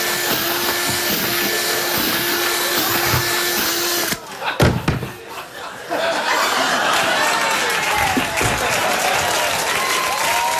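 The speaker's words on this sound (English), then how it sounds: "Another tool I use is a drill for doing, like, nostrils and things like that." A power drill bores holes into a pumpkin with a steady motor whine that dips briefly several times over about four seconds, then an audience breaks into applause and laughter with chatter.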